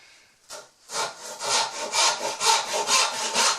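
A hand saw cuts a tenon cheek in wood for a root vegetable cabinet face frame, with a couple of tentative starting strokes followed by a steady run of rhythmic rasping push-and-pull strokes, close and clear.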